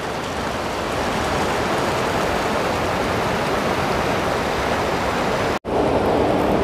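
The Mandakini river rushes at Gaurikund in a dense, steady roar of fast water, loud and close, unbroken apart from one brief cut near the end.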